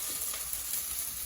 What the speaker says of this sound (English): I really wanted the pan to be hot, but I don't wanna, scorch the onions themselves